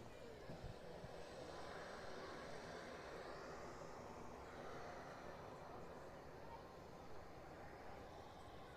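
Airliner departing from an intersection at Manchester Airport, a steady distant jet roar that holds and swells slightly across the stretch, with a voice talking faintly over it.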